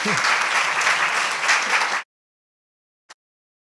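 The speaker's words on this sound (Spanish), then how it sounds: "Así que pido un aplauso para ellos." A burst of applause from a crowd, steady and full for about two seconds, then cutting off abruptly into silence with one faint click afterward.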